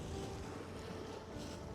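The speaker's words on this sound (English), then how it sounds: "the wind just came" Wind gusts over a Norwegian fjord during lobster fishing from a boat, a loud close rumble of wind buffeting the microphone with wave wash beneath, no talk.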